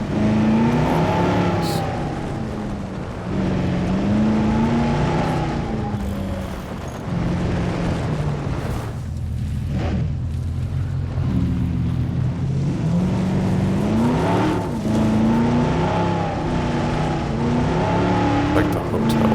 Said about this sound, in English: I actually really like using these Jeeps because like the model of the car is like much more bulky